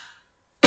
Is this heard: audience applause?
no